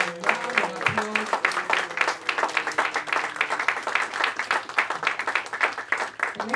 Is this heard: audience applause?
yes